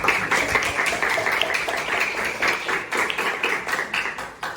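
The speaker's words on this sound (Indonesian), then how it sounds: "Beri tepuk tangan untuk." Seventh-grade classroom students applauding together after a lesson answer, a dense burst of rapid hand claps, loud and close, lasting several seconds.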